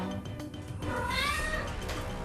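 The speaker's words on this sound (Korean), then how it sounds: "저거를 정확하게 얘기하면은 트릴링이라고 하는 약간 고양이가 뭔가를 기대할 때 내는" A deaf cat gives a short, rising chirrup-like trill while waiting for a late-night meal, close and fairly soft against a quiet indoor background, with no talking.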